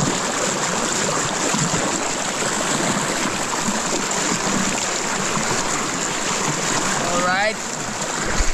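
Powerful irrigation channel water rushes loudly and continuously up close, heading toward rice fields; near the end someone says a brief word over it and a short whistling chirp cuts through.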